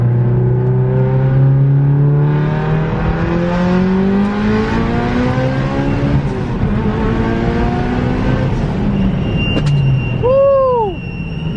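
Straight-piped Mitsubishi Evo 10 pulling hard through the gears, a loud, raw exhaust note rising in pitch and dropping at shifts, heard from inside the car, with a brief high whine near the end.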